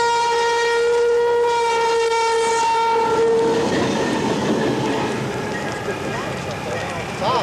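A locomotive sounds its horn in a long, loud sustained blast while approaching a rural railroad grade crossing, then the horn cuts off and the rumble and clatter of the passing train take over.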